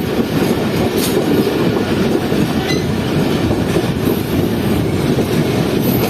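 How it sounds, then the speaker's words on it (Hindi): The Millat Express passenger train rolls past on a track in Pakistan, a loud, steady, close rumble and clatter of wheels that fills the whole stretch without pause. "ये आ रही है सामने से 18 डाउन मिल्लत एक्सप्रेस GU40 के साथ।"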